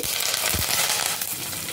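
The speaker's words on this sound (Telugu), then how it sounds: "వెల్లుల్లి కాస్త గోల్డెన్ రెడ్ వచ్చినంత వరకు ఫ్రై చేసుకోండి" Curry leaves, crushed garlic and dry red chillies frying in hot oil as a tempering for Andhra vegetable pulusu, a loud, steady close sizzle with a few stirring knocks and no voices.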